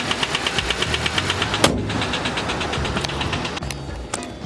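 A car engine with low oil pressure idles roughly with a rhythmic knocking pulse, then stumbles and sputters with a couple of sharp clunks as it falters.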